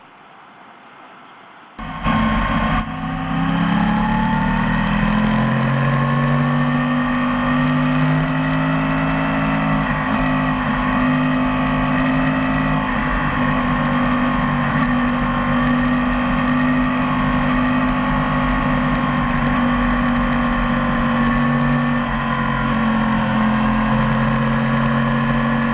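A motorcycle ridden on a twisty road, its engine starting up after a brief quiet moment and then droning steadily and loudly at a near-constant pitch with slight rises and falls, wind noise underneath, no talking.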